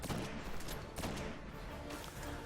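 Weapon fire in the sci-fi shooter Destiny during a boss fight, a dense, continuous barrage of loud bursting shots with a few stronger blasts standing out.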